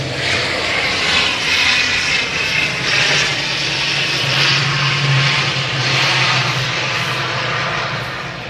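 A plane comes in to land at Manchester Airport, its engine roar loud and steady throughout with a low rumble swelling midway and easing toward the end, no talk over it.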